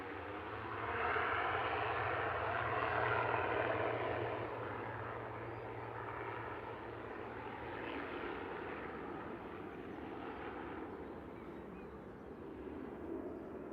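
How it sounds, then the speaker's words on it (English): An eight-year-old ATR 72-600 turboprop airliner flying near Manchester Airport at sunset gives a distant, even engine drone. A low propeller hum is heard early on, and the drone swells slightly and fades a little over the stretch, with no talking. "It's an 8-year-old ATR 72-600."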